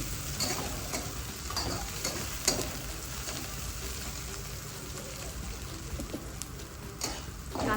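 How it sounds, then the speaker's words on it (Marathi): Chopped onion sizzles steadily in a hot pan while a spoon stirs it, with continuous frying hiss and occasional scraping clicks. "थोडा कांदा आपण आता चांगला पसंत घेऊया"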